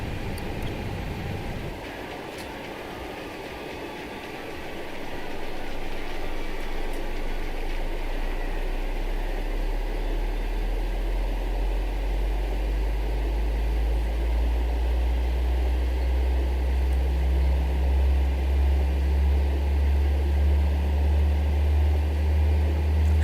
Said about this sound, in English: So let's go ahead and start engine number 2.